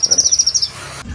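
Cucak kine songbird in a bird shop, a rapid series of about nine bright, high chirps in even rhythm, loud and close, then a brief quieter pause.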